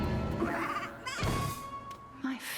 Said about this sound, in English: She turned me into a sheep.